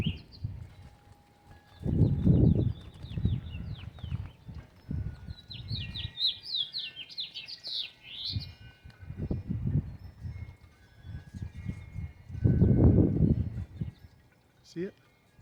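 A small bird chirps from inside a backyard birdhouse, a quick run of thin, high tweets in the middle, faint beneath someone speaking close by.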